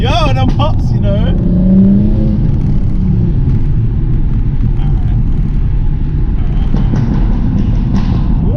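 A tuned Stage 2 BMW M235i with wrench-tuned engine mapping roars steadily and loudly up close, its deep exhaust rumble punctuated by a few sharp crackles near the start and again toward the end.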